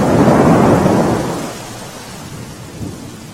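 Heavy rain pours on Girnar mountain in Junagadh. A deep roll of thunder rumbles loudly at the start and slowly fades, leaving a steady wash of rainfall, with a faint low rumble near the end.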